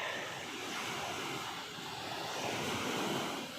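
Ocean waves wash steadily onto the shore at Tali Beach in Nasugbu, Batangas, a broad continuous surf roar mixed with wind buffeting the microphone, with no voices.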